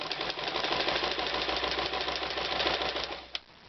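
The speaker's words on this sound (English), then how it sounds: "So let's start sewing." Sewing machine stitching joined fabric bias strips for piping, a steady close mechanical whir with rapid rhythmic needle knocking that runs continuously and stops with a final click near the end.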